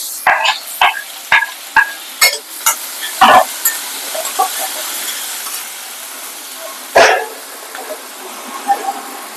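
Onions and tomatoes sautéing in a pan, heard as a low sizzle broken by a run of sharp scraping and tapping strokes from stirring, close and fairly loud, thinning out into quieter frying with occasional clinks.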